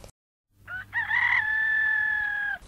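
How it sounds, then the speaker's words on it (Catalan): A rooster crows once, close and clear: a short rising opening note, then a long sustained call that holds steady before cutting off, with a brief silence before it. "I troba un gall."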